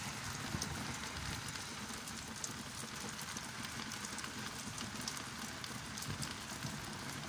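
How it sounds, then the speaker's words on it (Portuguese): Steady afternoon rain patters on surfaces, a dense even hiss of drops that continues unchanged throughout with no voices. "Já está chovendo há pouco,"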